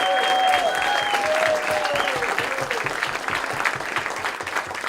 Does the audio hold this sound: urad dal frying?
no